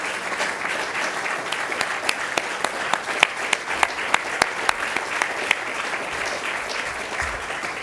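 An audience applauds a project team at an official research project launch, steady clapping from a room of people sustained throughout, with a few sharper individual claps standing out near the middle.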